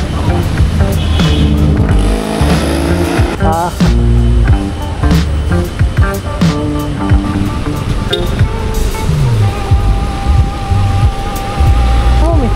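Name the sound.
heavy rain during motorcycle ride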